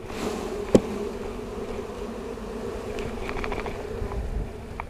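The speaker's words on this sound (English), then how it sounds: "I'm going to shake the bees off of this frame because it has eggs and very young larvae" Bees buzz steadily around a hive frame as they are shaken off it during an inspection, a dense close hum with a single sharp knock early on and a few light taps later.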